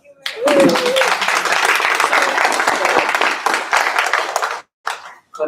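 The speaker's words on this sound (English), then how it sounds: "Another round of applause for Opa." An audience at a justice-access event breaks into loud, dense applause for a departing guest, sustained for several seconds before cutting off, with a brief voice at the start and a few scattered claps at the end.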